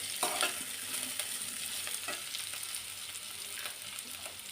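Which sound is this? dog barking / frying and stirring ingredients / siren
frying and stirring ingredients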